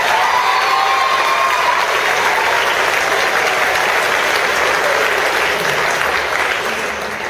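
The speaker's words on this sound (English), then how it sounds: "Would you give him a nice round of applause?" At an awards event, an audience delivers a loud, continuous round of applause with cheering and a few whistles for an honoree, holding steady across the whole stretch.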